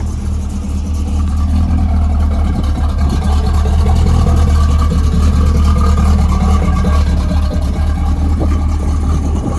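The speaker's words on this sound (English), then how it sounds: "Hear the exhaust." A deep, loud exhaust from a 1968 Chevrolet Camaro SS rumbles steadily up close, a thick low drone with wind noise over it.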